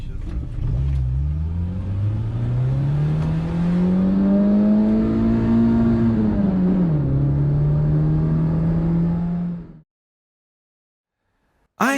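A car engine running on WD-40 during a test drive revs up steadily with a rising, strained tone, eases back briefly, then holds a loud even drone before cutting off abruptly to silence.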